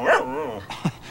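A dog gives a drawn-out whining bark followed by a couple of short yips, close and loud, with no one talking.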